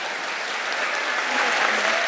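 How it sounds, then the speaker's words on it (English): An audience at a student film awards show claps steadily and densely for the student videos, a broad sustained wash of applause that swells slightly toward the end, with no talking over it. "can we clap for them?"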